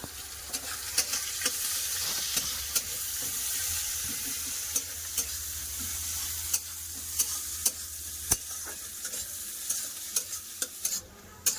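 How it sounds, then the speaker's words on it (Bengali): Chopped onion and green chilli frying in oil in a pan, with repeated close scraping and knocking of a spatula over a steady hiss of sizzling. "কেটে রাখা কাঁচা লঙ্কা কেটে রাখা পেঁয়াজ পেঁয়াজ খুব ভালো করে ভেজে নেব"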